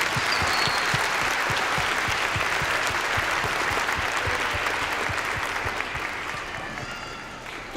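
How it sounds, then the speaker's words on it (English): Sustained audience applause after an elementary school winter concert for third to fifth graders, a dense wash of clapping from a large crowd that holds steady for several seconds before beginning to fade. "another round of applause for all of our scholars and their performance tonight"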